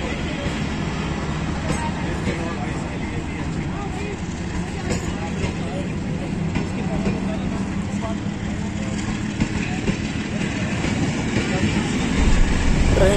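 Bahauddin Zakaria Express passenger train of Pakistan Railways rolling along the rails, a steady loud rumble with faint clatter of the carriages throughout.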